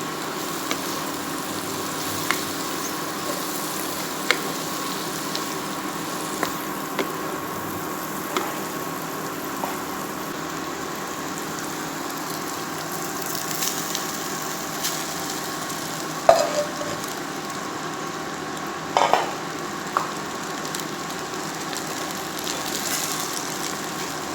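Vegetables are stirred in a pan for chicken fried rice, with a low steady sizzle and occasional scrapes and clinks over a faint background hum, no talking.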